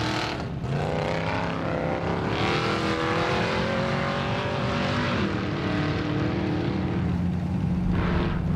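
Off-road race car on the King of the Hammers qualifying course, its engine roaring loud and steady throughout, pitch rising and falling as it accelerates between bends and jumps, no talk.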